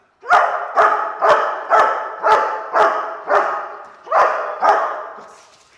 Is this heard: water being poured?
no